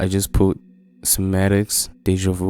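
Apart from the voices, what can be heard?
None of the usual background noises is heard.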